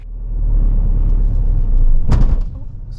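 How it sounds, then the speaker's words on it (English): A car engine stalls while moving off at traffic lights during a driving test: a steady close engine rumble, then a sharp jolt and clunk near the end as the motor cuts out. "She starts moving off but stalls the engine."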